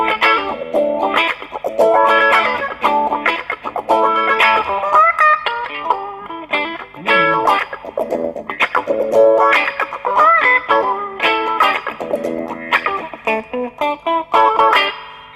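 Electric guitar plays a choppy funk rhythm with a lightly driven, effected tone, with tight, syncopated strummed chords and muted scratches repeating in a steady groove, played up close with no talking.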